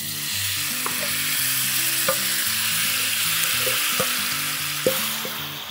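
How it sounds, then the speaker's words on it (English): Apples sizzling in browned butter in a pan, a loud steady crackling fry with occasional clinks and scrapes of stirring underneath, no talk. "So now that our butter is brown, I'm gonna go ahead and add my apples into my pan."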